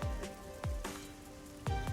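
Rain falls in the video game Rain Code, with close, soft patters and a few heavier drops repeating over a steady wet background.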